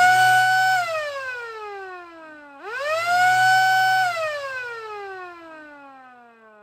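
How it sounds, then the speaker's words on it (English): A loud electronic ambulance siren on an M725 military ambulance wails alone, its pitch sweeping down, then rising again and slowly falling, with a steady hum underneath. "reach over with your foot and lightly tap it and make the siren go"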